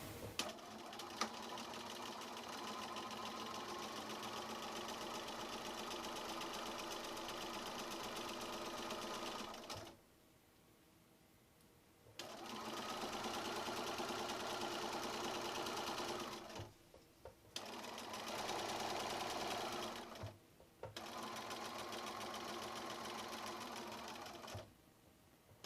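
Domestic sewing machine stitching binding onto the back of a quilt, long steady runs of rapid needle clatter and motor whir stopping twice for short pauses, then resuming, close and clear with no talk.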